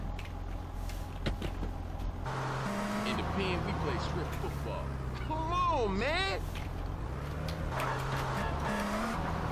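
Sports cars rumble and whoosh past in traffic in GTA San Andreas, engine drones rising and falling with a sweeping pass near the middle, while someone talks over them.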